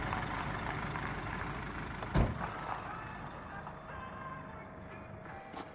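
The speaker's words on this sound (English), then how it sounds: "Henri heard the noise of a vehicle, which turned out to be a refuse collection lorry." A refuse collection lorry's engine rumbles steadily at a moderate distance, with a brief louder thump and hiss partway through and no one speaking.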